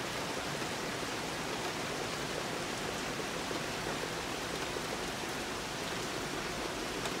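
Decent rain falling after weeks of dry weather in a garden, a dense, steady hiss of drops at even loudness throughout, with no voices over it.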